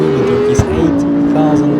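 BMW M5 E60 engine in the CarX Street video game revving hard near its limiter, a loud continuous high whine that steps down in pitch as it shifts, with brief background talk.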